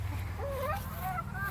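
Chickens in a chicken run on a hot summer day give a few soft clucks and rising calls over a steady low background hum.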